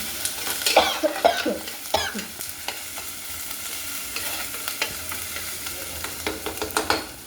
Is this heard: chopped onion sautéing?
yes